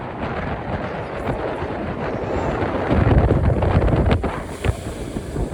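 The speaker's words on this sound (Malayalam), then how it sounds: "നല്ല കാറ്റുണ്ട് കേട്ടോ," Strong wind gusting at a jetty in Lakshadweep buffets the microphone with a steady, loud roar and low rumble, swelling harder midway through, with no one speaking.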